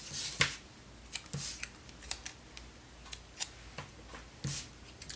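Scissors snip paper for a planner dashboard layout, giving a series of sharp, close cuts at an irregular pace with soft rustling between them, quiet overall.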